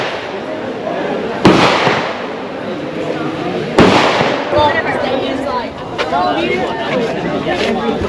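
Gunfire at the shooting range of the Cu Chi Tunnels in Vietnam: two sharp, loud reports a couple of seconds apart over a busy outdoor murmur of tourists talking nearby.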